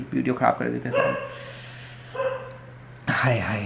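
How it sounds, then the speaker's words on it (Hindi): A dog barks nearby in a few sharp bursts, mixed in with someone talking over it. "यहाँ बगल में कुत्ता भौंक रहा है भाई"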